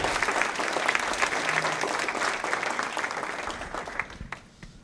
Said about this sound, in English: So if you all could please stand, we would love to give you a round of applause.